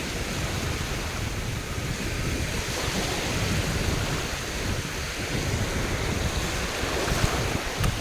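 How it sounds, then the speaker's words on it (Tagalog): Rough sea waves surge and crash without a break, with a broad roar and wind buffeting the microphone throughout, and no voices. "Mga ganitong maalon, di ba?"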